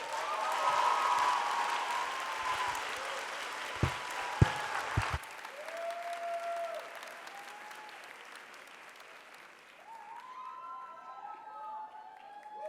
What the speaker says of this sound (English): I need your help right now for a big applause